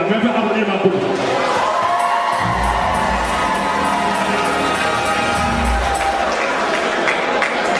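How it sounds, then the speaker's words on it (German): An audience at a car dealership carnival session claps and cheers, a dense, loud wash of applause with whoops and shouting voices mixed in, sustained throughout. "Wollt ihr einmal den Publikum applaudieren?"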